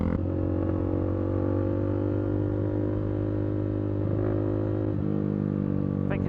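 Single-cylinder motorcycle engine held at about 6,000 RPM, a steady close drone with a faint rattle from the loose left-hand fairing and no speech.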